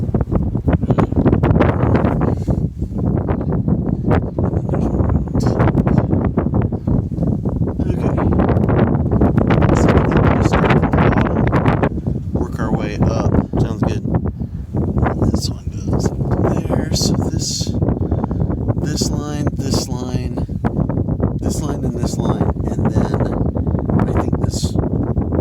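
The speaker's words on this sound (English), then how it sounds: "We only got 20-mile-an-hour winds helping us." Strong outdoor wind of about 20 mph buffets the microphone in a continuous loud roar beside a Case 580C backhoe under repair, with people talking intermittently over the gusts.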